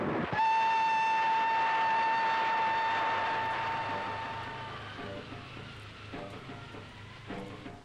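The Night Mail train passes, opening with a loud, steady whistle blast that then fades. A rolling rumble of wheels on rails continues beneath it, with rhythmic clanks toward the end.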